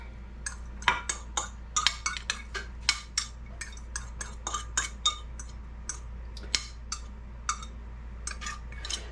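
Carnitas being spooned into a squash casserole dish with onions and cilantro: a steady series of light clinks and scrapes of a utensil against the dish over a low hum, no talking.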